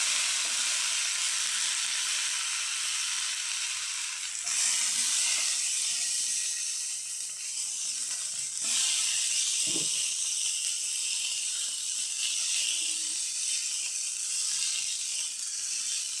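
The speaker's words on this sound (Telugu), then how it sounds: "కొద్దిగా ఆయిల్ వేసిన తర్వాత చూడండి టమాటాలు వేస్తున్నాను నేను." Tomatoes dropped into a little hot oil sizzle loudly, a steady bright hiss and crackle with a few louder surges as pieces land, close up and without talk.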